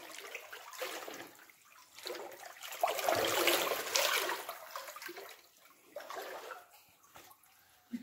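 Footsteps wade through rising water inside Kalyangad fort in Satara, producing bursts of sloshing and splashing that swell and fade at close range.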